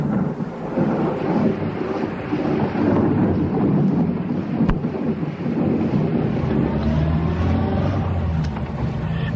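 A violent thunderstorm pours heavy rain in a radio drama, with a dense, steady roar of rain and rumbling thunder throughout and one sharp crack near the middle.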